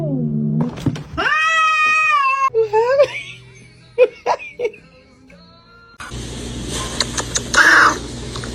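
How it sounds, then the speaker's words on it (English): A cat meowing, with drawn-out harmonic meows standing out at moderate loudness, followed by people talking and exclaiming over a noisier background. "Funny cat."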